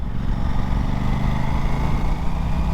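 Aprilia RS457 motorcycle engine running steadily while riding, a continuous low droning hum with constant loudness and no breaks, close and alone.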